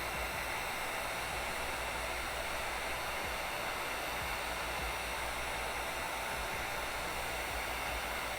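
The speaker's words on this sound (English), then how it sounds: "30 seconds to a minute with this heat gun, like so." A heat gun blows steadily on a drying stencil, giving a continuous, even whooshing hiss of hot air that holds unchanged throughout, close and moderately loud with no speech.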